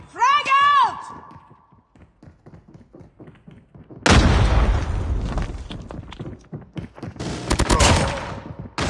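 A frag grenade explodes in Call of Duty Mobile, a sudden loud blast with a rumbling tail that follows an electronic tone and a brief voice callout, then more booming battle noise later.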